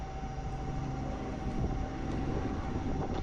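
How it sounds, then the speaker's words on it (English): A helicopter at an airsoft game gives a steady mechanical engine drone that hums continuously, with a low rumble and a sustained tone, heard at a moderate distance. "That's the helicopter."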